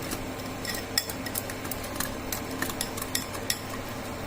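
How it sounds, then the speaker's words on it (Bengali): A utensil clinks repeatedly against a bowl in a quick, steady rhythm as yogurt is whisked with spices, close and fairly quiet with no talking. "এবার আমি দইটাকে খুব ভালো করে দেখুন ফেটিয়ে নিচ্ছি সমস্ত মশলার সঙ্গে"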